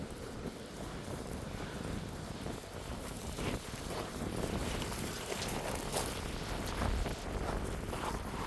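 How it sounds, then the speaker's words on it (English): Wind buffets a camera microphone outdoors on a dog walk at Robinson Bay, a steady, loud rumbling roar with gusty swells throughout and no talking. "I feel like there might be more shelter from the wind with my back turned to it"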